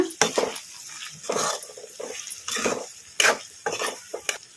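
Drumstick (moringa) pieces frying in a little oil in a pan while being stirred, with repeated scraping and clinking strokes over a soft sizzle, close and fairly loud, no voices.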